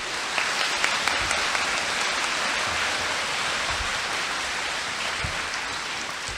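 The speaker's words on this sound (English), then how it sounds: "So if you could please give them a round of applause." An elementary school audience applauds student leaders of a STEM squad with dense, continuous clapping, a broad rain-like wash of many hands that holds steady for several seconds without talk.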